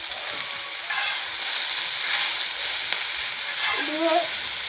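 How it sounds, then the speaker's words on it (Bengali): Chutney being stirred in a pan, a steady broadband frying sizzle running throughout with occasional soft scraping strokes of the spoon against the pan, close and moderately loud, no voices. "পরে চাটনি ভালো করে নেড়ে দেবেন।"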